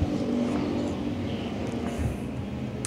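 Hobby stock race cars on a speedway track, engines running side by side in a steady, fairly distant motor roar with a faint rise in revving.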